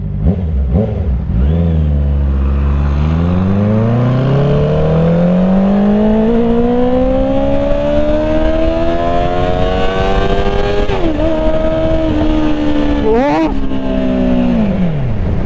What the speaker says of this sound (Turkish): Motora binmek istiyorum ya. Gazlamak istiyorum. Ses duymak istiyorum.